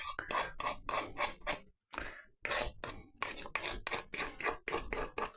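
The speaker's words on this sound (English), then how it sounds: "We'll just scrape this off here." A utensil scrapes sugar off a surface while preparing a steamed jam sponge pudding, making repeated short, gritty scraping strokes close up in an uneven rhythm, with brief pauses and no talking.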